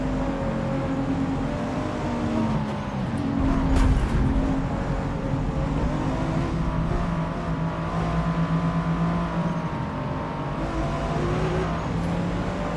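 A race car in Forza Motorsport (2023) drives with a loud, continuous engine roar that rises and dips slightly as it revs, with no talk heard over it.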